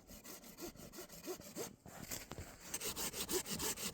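A hand saw cuts through wood on a camping trip with a steady run of rhythmic back-and-forth rasping strokes, close and fairly quiet, and no one speaks.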